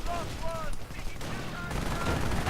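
Gunfire crackles in a WWII strategy video game battle with commandos under heavy fire, a dense rapid patter of distant shots mixed with a commentator's voice.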